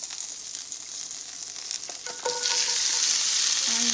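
Onions and peppers sizzle in hot oil during a stir fry, a steady bright crackle that swells louder partway through as they hit the pan, with faint utensil taps and no talk.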